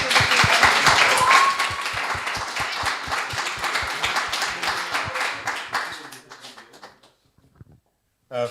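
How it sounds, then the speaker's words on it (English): Audience members at a law conference applaud as the dean comes forward to close the session, sharp distinct claps that thin out and fade to near silence, with a few scattered claps after. "please give the raise of applause to the Dean"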